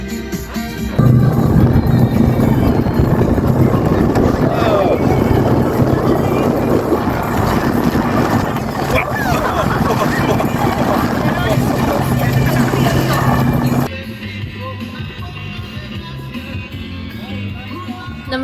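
Speedboat ride around Sentosa at about 25-26 knots: a loud, continuous roar of engine and rushing water and wind for most of the stretch, then dropping to a quieter rumble, with voices mixed in.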